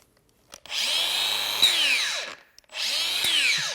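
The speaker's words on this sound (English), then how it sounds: "Seems like it has a nice electric brake, and it speeds up real quick." A Makita 18V LXT brushless X-Lock cordless grinder whines up to speed fast and then electrically brakes to a stop, twice in a row. The two close, loud bursts are separated by a short silence.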